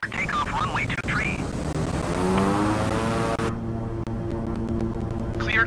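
Beechcraft King Air 350i twin turboprop in Microsoft Flight Simulator, engines rising steadily through the takeoff run with a continuous drone and tonal hum, while radio talk plays over it.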